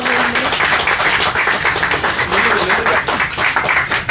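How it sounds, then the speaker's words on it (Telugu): An audience at a Telugu film teaser launch event claps to welcome a guest, giving dense, continuous applause that stays loud and steady throughout, with some voices mixed in. "అందరూ కలిసి ఒక్కసారి గట్టిగా చప్పట్లతో ఆహ్వానించుకుందాం"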